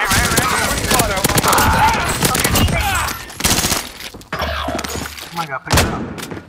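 Rapid bursts of shotgun fire in a first-person shooter game, loud and close, with thuds and impacts scattered through the clip while players talk over the action.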